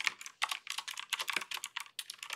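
Close, brisk typing on a computer keyboard while building a Ruby on Rails app, a quick run of clustered keystrokes with tiny pauses between bursts, no talking.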